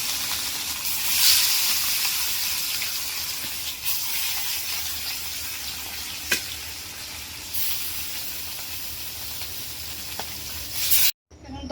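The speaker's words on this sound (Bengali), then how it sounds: "বাকি মাছগুলো এইভাবেই ভেজে নিব।" Rohu fish pieces frying in hot oil in a home kitchen, a steady loud sizzle and hiss throughout with occasional sharp spatters and pops, then a brief cutoff near the end.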